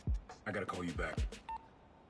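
Short phone dialing tones in the video game Spider-Man: Miles Morales, a few quick beeps heard faintly under ongoing speech.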